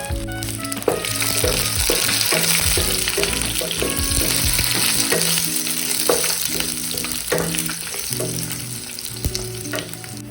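Green chillies and whole garlic cloves frying in oil for okra poriyal, a loud continuous sizzle with frequent stirring clatter and scraping throughout, close up.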